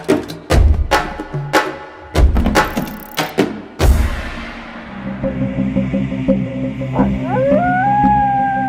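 A desert wolf howling: after a run of heavy thumps, a long sustained howl rises and wavers, loud and near, holding to the end.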